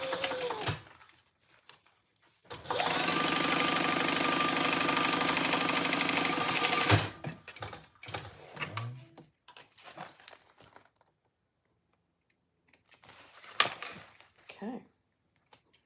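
A sewing machine runs a steady, continuous seam for about four seconds while top stitching a bag's front pocket. Scattered handling noises and a speaking voice come before and after the stitching.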